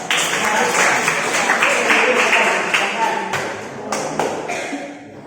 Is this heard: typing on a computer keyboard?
no